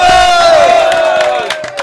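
A gathering of businesspeople and farmers celebrating gives a loud sustained crowd shout, a drawn-out collective whoop that fades while clapping-like patter trails off at the end.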